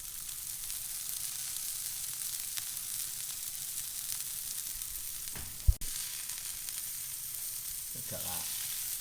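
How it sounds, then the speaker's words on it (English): Hash browns fry in a pan with a steady, close crackling sizzle throughout, broken once by a sharp knock of a utensil against the pan near the middle. "So with the hash browns, you want them to cook on one side and start to bind together before you turn them over."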